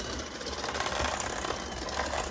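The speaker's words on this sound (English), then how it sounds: "I've got my mixer running" An electric stand mixer whirs steadily through vanilla cake batter as milk is added, a constant close motor hum with a faint rattling texture and no talk over it.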